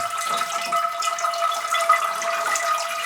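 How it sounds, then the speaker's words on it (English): Water runs and drains from the bottom of a freshly watered Sarracenia pitcher plant pot, a steady close splashing trickle with a faint tonal ring underneath, continuous and alone. "Now the water that's coming out the bottom can be reused."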